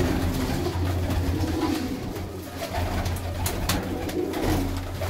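Patti-breed pigeons coo repeatedly, low and close, over a busy loft background with scattered clicks and rustling.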